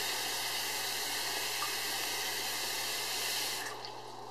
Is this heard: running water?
yes